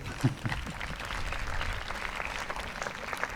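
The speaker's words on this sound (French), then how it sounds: "Merci Odile, on peut l'applaudir bien fort." Audience at a public hypnosis session at the Festicho festival applauds warmly, a continuous wash of clapping after a brief voice at the start.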